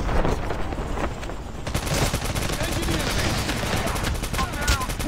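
Rapid automatic gunfire bursts from a Call of Duty Mobile match, dense and continuous across the clip with loud shots near the end, heard beneath a player's speech.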